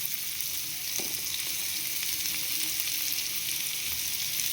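Paneer pieces frying one at a time in a pan on low heat give a steady, moderate sizzle that holds evenly throughout, with no talking.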